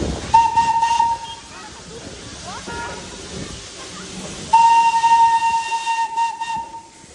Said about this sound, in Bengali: একটা টয় ট্রেন ছেড়ে বেরোলো আর একটা আসছে